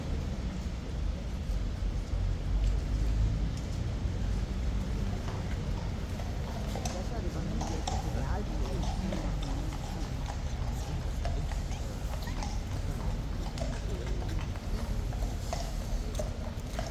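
A horse's hooves clip-clop steadily and close by on hard ground, with a continuous outdoor background.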